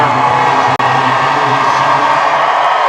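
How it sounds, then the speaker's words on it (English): A crowd at a boys' 2A state basketball quarterfinal roars after a left-handed layup, with loud, sustained cheering and whoops filling the gym, broken by one momentary dropout. "That gets the crowd going there"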